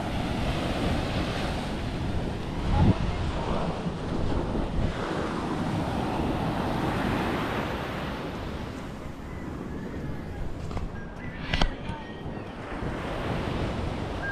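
Continuous roar of sea waves washing ashore, mixed with gusty wind buffeting the microphone, with a few brief louder splashes.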